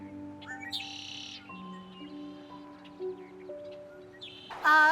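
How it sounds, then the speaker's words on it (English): Red-winged blackbirds call outdoors among other wild birds: thin whistled notes and chirps come at moderate distance, ending in a louder, buzzy trilled burst. "We have red-winged blackbirds."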